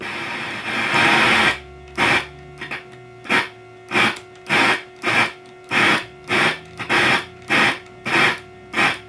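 A 1973 Minimoog Model D synthesizer plays a burst of hissing white noise, then repeats in short regular pulses, about one per second, over a faint steady hum.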